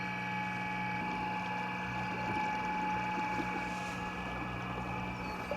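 A Seadoo fitted with a Temo 450 electric motor runs at full throttle on the water, making a steady, even electric whine over soft water and wind noise throughout.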